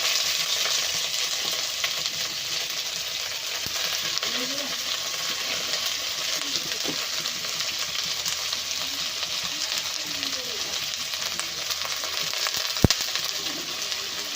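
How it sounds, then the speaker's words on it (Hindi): Cabbage frying in a pan with onion and green chilli gives off a steady, even sizzle for the whole stretch, with faint stirring scrapes and a single sharp tap near the end. "अब हम इसमें कैबेज डाल देंगे"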